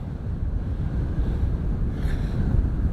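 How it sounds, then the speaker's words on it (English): Strong headwind buffets a microphone while cycling on an open road, a continuous low roaring rumble with gusty swells, close and loud, with no talk. "I'm getting a major headwind"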